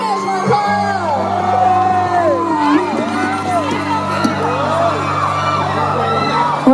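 A crowd at a live concert cheers, whoops and shouts loudly for the young singer, with sustained tones and voices ringing throughout the continuous noise.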